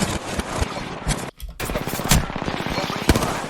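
Rapid automatic gunfire in the video game Apex Legends, a loud stream of close shots with a brief gap near the middle before the firing resumes and runs on steadily.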